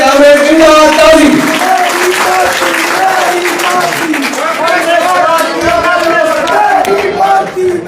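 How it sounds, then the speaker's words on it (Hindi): Audience applause and cheering welcome a comrade speaker at a political gathering, loud and sustained for the full stretch, with crowd voices mixed into the clapping. "आप श्रोता की भरपूर तालियों की गूंज में"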